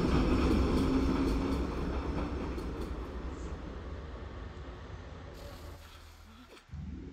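A metro train rumbles past in Assassin's Creed 3, a loud, steady rolling roar that gradually fades over several seconds, ending with a brief sharp burst of noise.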